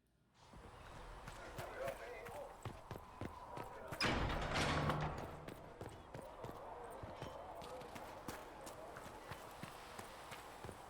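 Horse hooves clip-clop steadily in a fantasy video game, a busy patter of hoofbeats that swells into a louder burst around the middle, with a voice talking over parts of it.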